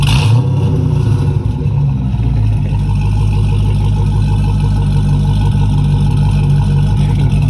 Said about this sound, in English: got the new exhaust. Y'all can hear that bit.